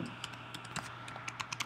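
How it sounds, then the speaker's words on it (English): Typing on a Mac computer keyboard produces quiet, irregular clicky keystrokes, about a dozen taps spaced unevenly over a low steady hum, close and alone without speech. "you start typing"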